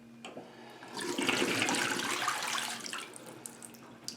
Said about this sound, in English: This has already got 5 parts water to 1 part bleach in it. I'm going to pour that in here.